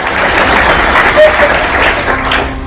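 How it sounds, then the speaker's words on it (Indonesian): Loud congregation clapping during a charismatic church service, a thick continuous burst of applause with cheering voices blended in. "Kasih tepuk tangan buat Tuhan."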